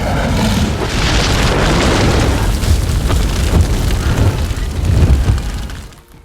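A fuel-drenched basement bursts into flames as a dramatic fire-explosion effect, a dense, sustained roaring boom that swells loudly for several seconds before fading away at the end.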